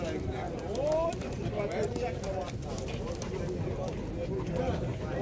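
Pigeons cooing at an outdoor pigeon market, soft repeated coos scattered under continuous nearby crowd chatter and background bustle.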